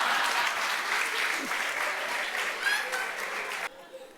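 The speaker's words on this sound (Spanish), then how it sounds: "Fuerte el aplauso." An audience at a motivational talk gives loud, steady applause. Many hands clap continuously for about four seconds before the sound cuts off abruptly.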